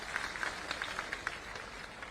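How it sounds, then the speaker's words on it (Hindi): Crowd at a Bilaspur, Chhattisgarh public rally clapping to welcome Priyanka Gandhi, a soft, dispersed patter of applause with scattered sharper claps, fairly distant and fading slightly toward the end. "जोरदार ताली बजा के उनका स्वागत करें"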